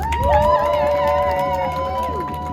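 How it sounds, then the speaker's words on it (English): A crowd at a Palestine march outside an MP's office in Cardiff cheers and whoops, with rising and falling voices over a steady roar that holds throughout. "Can we give another round of applause for everyone for coming?"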